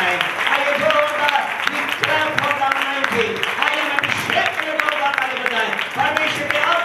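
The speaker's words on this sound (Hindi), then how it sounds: "आइए जोरदार परमेश्वर की आत्मा के लिए ताली बजाएं।" A church congregation claps for the Spirit of God during a Hindi sermon on anointing. The clapping runs steadily under a strong voice and keeps going throughout.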